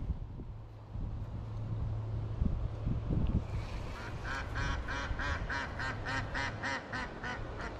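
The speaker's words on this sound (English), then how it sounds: "those ducks are crazy." A flock of ducks quacks in rapid, repeated bursts, loud and close, over an outdoor rumble of wind and water at a pond.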